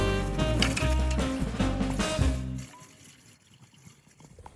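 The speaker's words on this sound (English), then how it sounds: "we're gonna go ahead and fill this up with some water" Water pours forcefully into the hollow tank of a battery-powered backpack sprayer with a resonant, rising gurgle, then cuts off, leaving faint drips and quiet rustling.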